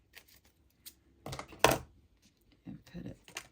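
Small scissors, an older pair, snip off a little piece of paper cover material in a few short crisp cuts, quiet and close with pauses in between.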